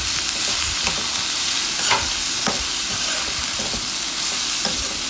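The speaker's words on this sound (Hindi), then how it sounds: "मैं मीडियम फ्लेम पे इसे करीबन 5 मिनट के लिए इसे अच्छे से सेकती रहूँगी" Mixed vegetables for a veg tikka wrap sauté over a medium flame, a loud continuous sizzle close by, with periodic scrapes and clicks of a spatula stirring through the pan.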